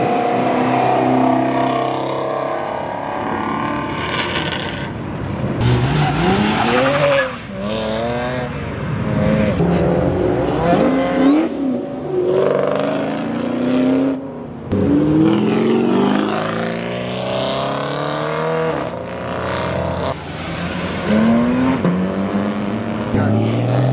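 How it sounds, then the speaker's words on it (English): Ford Mustang at a Cars & Coffee meet in Morrisville, North Carolina, accelerating hard with sweeping engine roars and tire squeal, several loud surges rising and falling across the scene amid crowd noise. "I love that Mustang"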